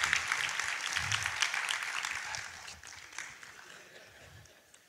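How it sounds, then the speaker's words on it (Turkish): An audience claps through the opening night of an international workers' film festival, a dense, steady wash of applause that gradually thins and softens toward the end, with no speech over it. "Alkışlarla."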